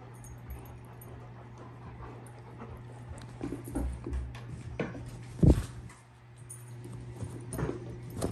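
A 4.5-month-old Irish Setter puppy whimpers in soft, faint whines scattered over a few seconds against quiet room noise, with one louder thump near the middle.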